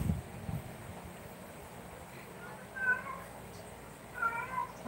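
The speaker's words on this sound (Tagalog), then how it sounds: "Ang ingay na naman ng mga pusa." Cats meow in two drawn-out bursts against a quiet background, faint and somewhat distant, with no talking.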